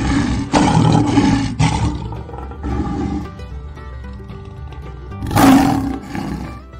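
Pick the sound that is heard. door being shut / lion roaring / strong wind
lion roaring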